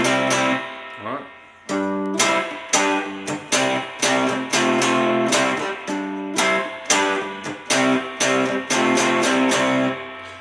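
First guitar motif of a song: punchy, rhythmic chord stabs in short repeated bursts with gaps between them, loud and close, heard without talk.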